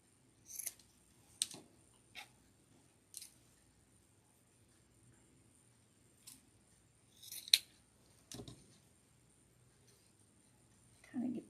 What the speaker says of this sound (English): So I think I do need to trim it just a little bit.